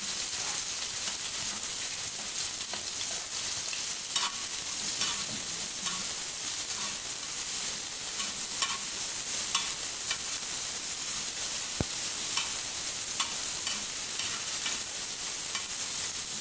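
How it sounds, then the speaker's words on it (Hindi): Onions fry in hot oil, giving a dense, steady sizzle that runs unbroken with faint stirring clicks and scrapes now and then, close up and without speech. "ऑयल हमारे अच्छे से गर्म हो चुका है। अब इसमें शामिल कर देंगे प्याज।"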